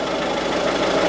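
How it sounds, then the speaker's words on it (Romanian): A car engine idles with the motor running during an electrical diagnosis, a steady even drone with no talk over it. "pornim motorul"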